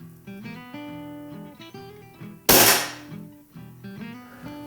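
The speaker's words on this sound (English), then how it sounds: "Let me go ahead and take my first shot." A single sharp crack from a Beeman HW97 underlever air rifle firing a Beeman Kodiak pellet cuts through steady background music and then fades quickly into it.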